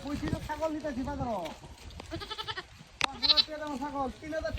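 Goat at a livestock market bleating several times in wavering, quavering calls, close and clear, with voices talking between and over the bleats.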